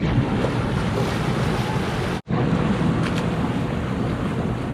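Ocean surf at a pier on Hawaii's Big Island rushes and roars continuously, loud and close, with heavy wind buffeting the microphone and a brief dropout midway.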